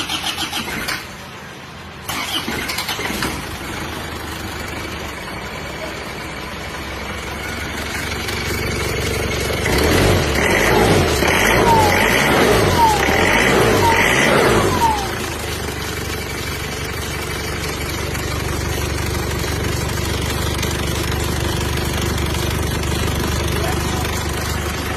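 A cold car engine with a worn engine block is cranked and catches, then settles into a steady idle with a brief louder, rougher stretch midway before easing back to a constant rumble.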